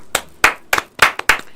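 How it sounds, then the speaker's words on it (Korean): A handful of people clap in five separate bursts of brief, crisp claps spaced about a third of a second apart, close and fairly loud, with no voices over them. "자 여러분 한번 우리 박수 한번 치고 갑시다"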